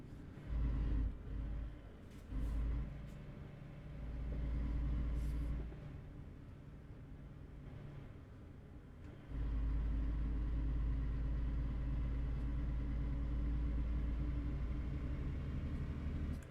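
A heavy truck engine in a trucking video game strains under load, a deep continuous rumble that swells and eases, dips briefly, then holds steady and loud to the end.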